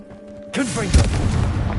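The Confringo fire spell in Hogwarts Legacy lands as a sudden booming blast with a whooshing burst of noise, preceded by a short spoken incantation.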